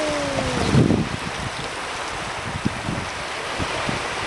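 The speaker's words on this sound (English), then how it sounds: "Here comes the tide." Ocean tide waves washing in along a beach where a horseshoe crab crawls, a steady wind-blown wash with a few soft low surges, no voices.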